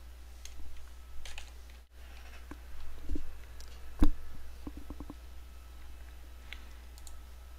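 Soft computer mouse clicks while saving a shortcut in the Alfresco Share web application, a few isolated clicks followed by a quick cluster of light taps over a low steady hum.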